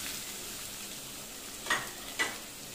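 Arbi (taro root) frying in masala for a Hyderabadi-style bagara salan gives a faint, steady sizzle, with two brief stirring scrapes near the end.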